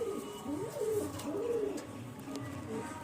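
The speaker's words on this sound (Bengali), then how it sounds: "এই যে পায়রাটা, মাদি পায়রা, আমার বাড়ির পায়রা" Female domestic pigeon cooing softly up close, with a few rolling, wavering coos in a slow rhythm over quiet background noise.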